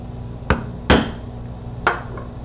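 Three sharp thwacks of a metal stitching chisel being hammered into leather to punch stitching holes for a bar frame clutch wallet, spaced unevenly, the middle strike the loudest, close and alone.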